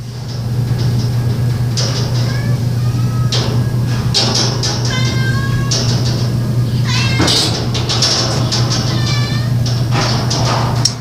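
Several cats in rescue shelter rooms meow and yowl repeatedly, close and loud over a steady low mechanical hum, with overlapping calls throughout.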